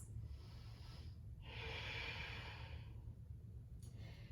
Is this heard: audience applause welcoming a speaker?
no